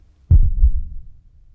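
One deep, booming heartbeat sound effect lands alone in silence as a heavy double thump with a low rumbling tail, loud and close.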